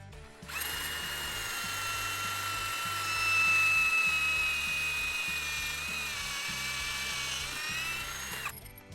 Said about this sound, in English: you don't want to drill directly straight in